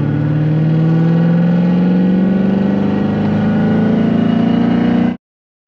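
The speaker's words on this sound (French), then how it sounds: "Dès que tu montes dans les tours, comment qu'elle gueule d'un coup là" A Corvette C7 with a stage 2 tune revs high and loud, its engine note climbing steadily for about five seconds before cutting off abruptly.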